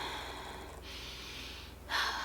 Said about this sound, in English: that's me trying to breathe normal.